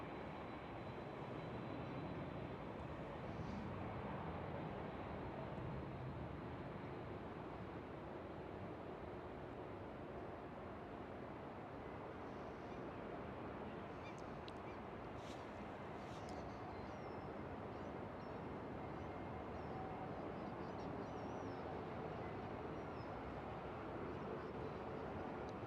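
An airliner at Schiphol Airport spools up to takeoff thrust, a steady broad engine roar with wind noise that stays loud and continuous throughout, with no talk.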